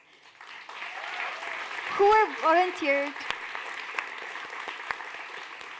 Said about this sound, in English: A big round of applause for our amazing mentors